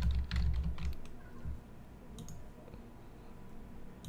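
Quick bursts of computer-keyboard typing while entering label text into a Creo drawing title block, dense at first, then thinning to scattered soft clicks.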